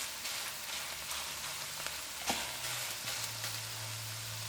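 Chicken mince samosa filling fries in a covered pot with a steady, soft sizzle that runs continuously, joined by a low hum and a brief scrape or stir midway.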